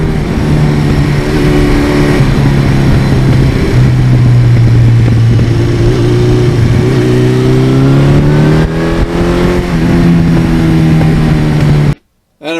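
A 1982 Suzuki GS1100E motorcycle engine runs loud and close, its note rising and falling steadily as it revs and accelerates, then cuts off abruptly near the end.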